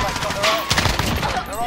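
Rapid bursts of automatic gunfire in a multiplayer shooter match, dense and loud, with a voice talking over the shots and game voice cues mixed in.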